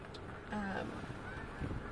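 Birds honking in goose-like calls outdoors ahead of a thunderstorm: a few short, loud honks stand out against a steady windy background.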